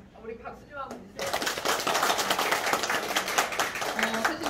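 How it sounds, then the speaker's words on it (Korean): Audience applause at a 2020 Gwangju gender forum panel on social welfare and low birth rates: brief speech first, then a dense wash of clapping that holds steady and fairly loud to the end. "우리 박수 좀 한번 주세요."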